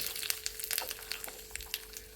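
Mustard seeds spluttering in hot oil give crackling, spitting pops, scattered bright bursts over a steady sizzle, close by.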